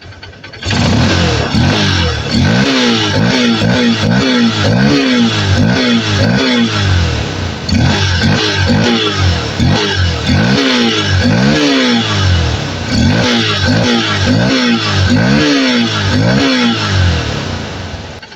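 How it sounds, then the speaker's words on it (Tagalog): A Honda XR150L motorcycle with a converted 4-pin CDI is revved hard again and again, loud and close, each throttle blip rising and falling in a steady rhythm for the whole stretch. "bibiritin natin na para marinig nyo"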